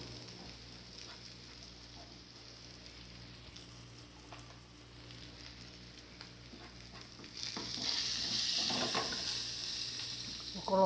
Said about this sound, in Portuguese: Eu vou fritar, vou colocar o colorau, porque eu gosto de colocar o colorau frito.